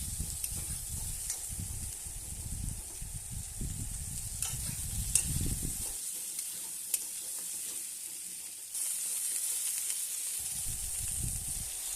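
Bottle gourd pieces sizzle in a pan after a spice tempering, stirred lightly with bursts of scraping and frying noise, pausing midway to a quieter hiss before the stirring resumes, close and steady.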